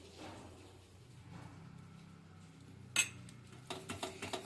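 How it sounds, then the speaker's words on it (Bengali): Fruit cake batter with semolina being mixed in a bowl for a no-oven cake, quiet scraping followed by a sharp clink and a run of rhythmic utensil taps against the bowl. "এবার আমি খুব ভালো করে মিশিয়ে নিচ্ছি।"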